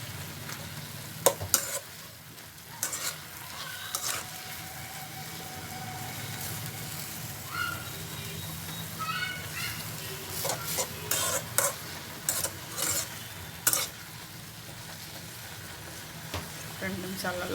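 Gongura sorrel leaves fry in oil in a pan, giving a low steady sizzle broken by sporadic sharp scrapes and knocks of a stirring spoon, close by with a voice speaking now and then.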